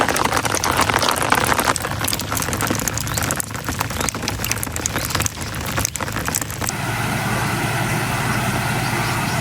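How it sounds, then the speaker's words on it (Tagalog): Heavy rain pours steadily beside a river, a dense, loud hiss of drops on surfaces that continues without pause, growing slightly smoother in the last few seconds. "Malakas na po ang ulan."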